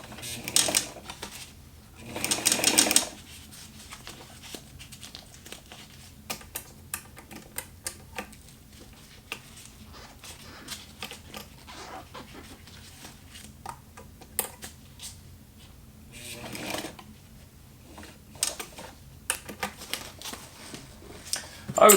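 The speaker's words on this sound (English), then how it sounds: "let's try the walking foot attachment" A sewing machine fitted with a walking foot attachment stitches material in short, quiet bursts of running, with faint ticking and handling noises in the gaps.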